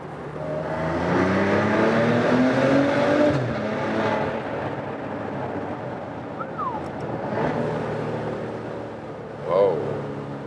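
A Maserati Ghibli SQ4 with a 3.0-litre 410 hp V6 accelerates in second gear through a tunnel, its exhaust rising in a steady, loud drone that echoes around the car, then easing off with road roar.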